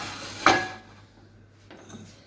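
Metal pots and pans clattering in a home kitchen while someone hunts for a casserole lid, one sharp loud clank followed by quieter rummaging scrapes and a faint knock near the end.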